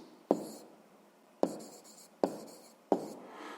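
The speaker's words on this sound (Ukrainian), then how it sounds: "Пишемо відповідь." Pen writing an answer by hand on paper for a sixth-grade exercise, four sharp taps each followed by short scratching strokes, close and quiet with no talk.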